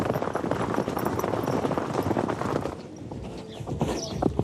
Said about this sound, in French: lâchez les chevaux